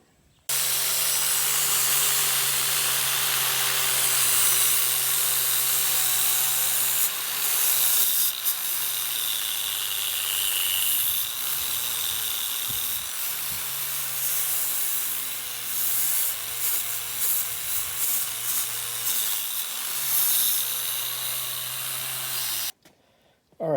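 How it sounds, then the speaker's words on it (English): Angle grinder fitted with a wire brush stripping rust from metal, a steady, loud abrasive hiss and whine that runs continuously for over twenty seconds with slight dips in pitch as pressure changes, then stops abruptly. "So I'm going to take the rust out of there with this."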